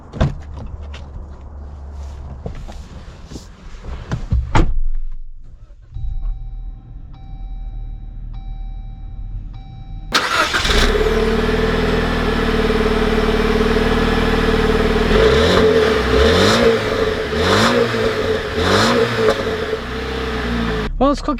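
A 2020 Jeep Wrangler North Edition engine cranks and fires, then settles into a loud, steady hum as the vehicle pulls away, with gear-change swells and road rumble, and a person speaks briefly near the start.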